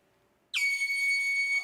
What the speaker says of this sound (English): As soon as I blow this air horn, we got 10 minutes on the clock.